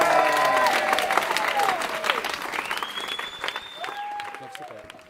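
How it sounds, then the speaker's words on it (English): Wedding guests applaud after the groom's speech, a full round of clapping that tapers off gradually, with scattered voices and a few whoops mixed in. "I think that deserves a round of applause."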